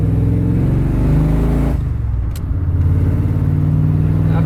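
A muscle truck's V8 fitted with a Holley Sniper runs with its exhaust cutout shut, giving a loud, close, steady tone that dips briefly midway and then resumes, with no talk.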